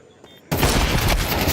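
Dense burst of rapid gunfire in Counter-Strike 2 during a tournament match, starting abruptly after a quiet moment and continuing loud and unbroken to the end, with faint caster voices underneath.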